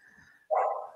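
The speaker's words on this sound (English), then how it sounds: "that's my dog in the background" A dog barks once from the background, a short, fairly loud bark following a faint, quiet stretch.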